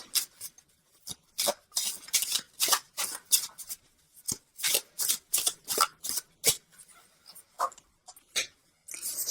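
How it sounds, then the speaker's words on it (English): Tarot cards are shuffled and pulled in quick papery riffles and slaps, close and crisp, arriving in irregular bursts with short pauses in a quiet room. "let's pull a visionary card from Noah Nathu, just for some added guidance"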